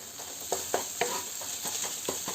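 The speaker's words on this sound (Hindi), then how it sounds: "देखो मसाला फ्राई हो गए छे" Masala and onions frying in a pan while being cooked for an omelette curry, with intermittent stirring scrapes and a steady sizzle running underneath, close and fairly quiet.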